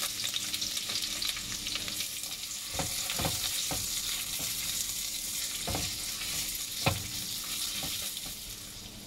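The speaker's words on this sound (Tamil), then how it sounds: "வெங்காயம் சீக்கிரம் வதங்குறதுக்கு நான் அதில் உப்பு கொடுக்குறேன்" Onion with dried chili and curry leaves sautéing in a pan, a steady low sizzle broken by several sharp clinks and scrapes of a spoon stirring, close by and without talk.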